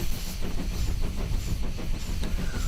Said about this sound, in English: listening to the sounds that only a steam engine can make